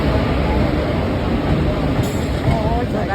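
A train pulls into a station platform during a school trip to Pune, a loud, continuous rumble and rolling roar from close by, with voices mixed into the noise.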